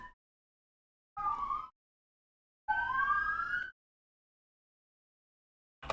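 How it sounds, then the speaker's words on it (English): Sirens sound in short separate bursts of warbling, rising and falling yelps, a couple of seconds apart with silence between, fairly faint in the background. "The sirens aren't coming through too loud."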